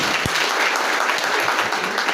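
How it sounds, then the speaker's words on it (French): A hall full of people at a women's leadership fair in Africa breaks into steady, dense applause, loud and sustained throughout with no clear voices on top. "Je vous demande de vous applaudir pour"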